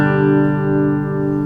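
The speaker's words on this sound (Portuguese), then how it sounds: "O reverb dá essa cauda, essa profundidade no som." Electric guitar with reverb switched on: a single sustained, steady note with rich overtones rings out clearly and lingers with a smooth, full tail, no voices over it.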